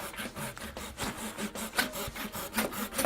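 Hand saw cutting Southern pine for a garden bench apron joint, steady rhythmic back-and-forth rasping strokes up close, roughly eight strokes in quick succession with no talking.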